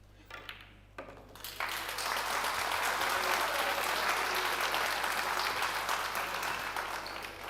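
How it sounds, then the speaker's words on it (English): Loud, sustained applause from the crowd at the final of the WPA Women's 10-Ball World Championship, rising after a second and holding steady to the end. "I think we're going to get a big round of applause."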